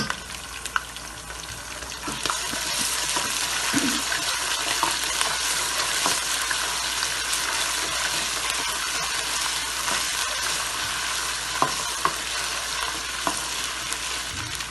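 Steady sizzling and crackling of garlic and ginger frying in a hot pan, with faint stirring scrapes throughout and no voices.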